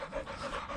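A dog pants while playing in a yard, quick rhythmic breaths that are faint and close, heard alone for under a second.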